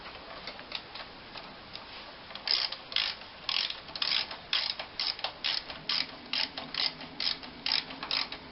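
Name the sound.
ratchet tightening 12mm carburettor fasteners on TTR250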